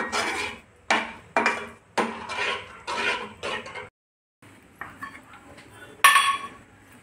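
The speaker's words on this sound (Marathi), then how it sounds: "सर्व हे मिक्स करून घ्यायचं।" Ingredients being mixed with cardamom powder in a bowl: a series of close scraping, rubbing strokes against the bowl, a brief pause, then softer stirring ending in a sharp clink.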